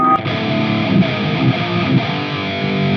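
Heavily distorted electric guitar chords through a heavy metal preset on a Mooer Prime P2 ring out loud and buzzy, sustained with a thick, crunchy tone.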